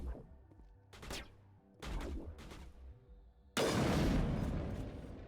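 Gunfire in the Mass Effect Legendary Edition shooter on Xbox Series X: several sharp shots with ringing tails, then a loud, sustained burst of fire that decays slowly. A voice briefly exclaims in the middle.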